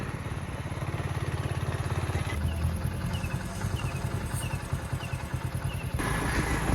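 A motorcycle is ridden on a road with its engine droning steadily and fairly loud, accompanied by wind rush and a few faint chirping sounds in the background.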